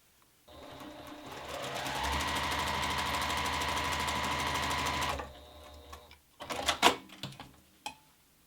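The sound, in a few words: sewing machine stitching quilt pieces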